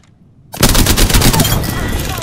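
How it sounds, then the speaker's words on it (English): Video game gunfire erupts abruptly after a brief quiet moment, a loud, close burst of rapid automatic shots that rattles on for the rest of the moment. "Taking fire."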